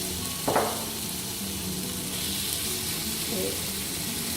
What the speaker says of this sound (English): Always make sure the oil is really hot, and then you put your masalas or ingredients in.